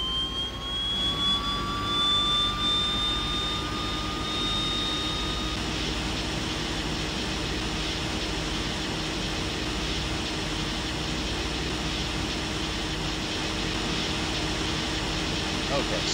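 A Twin Otter turboprop engine spins up during start on an Alaskan air cargo aircraft, a steady loud roar with a rising whine that climbs in pitch over the first few seconds before holding steady.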